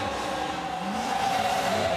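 A race car drives at the Race of Champions event, its engine and tires giving a continuous roar at high revs, with a rising tone partway through, heard at moderate distance.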